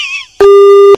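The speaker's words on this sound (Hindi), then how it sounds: "फोन काट दिया" A telephone busy tone sounds as a cut-off call ends: a short burst of faint noise, then a loud, steady continuous tone held for over half a second, alone with no talk.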